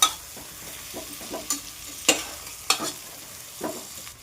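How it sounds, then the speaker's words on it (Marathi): Spice masala for stuffed brinjal being mixed and fried in a pan, soft sizzling under a series of distinct stirring scrapes and knocks at irregular intervals, close and without talk. "मस्तपैकी दोन मिनटं आपण मिक्स करून फ्राय करणार आहे"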